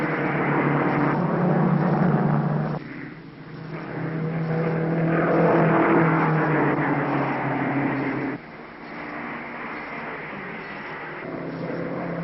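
A race car at the 1953 Indianapolis 500 roars along with a steady engine drone that swells and fades, heard from a distance on an old, band-limited recording with no speech.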